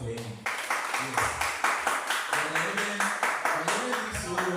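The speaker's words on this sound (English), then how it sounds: "I want us to clap for him" An audience claps for Brother Eben at a Pax Week alumni celebration, a fairly close, steady rhythmic clapping with voices underneath.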